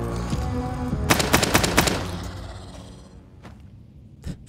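Gunfire at a zombie in the video game Daymare:1998, a rapid burst of about four loud, close shots, followed by quieter game ambience and a single later thud.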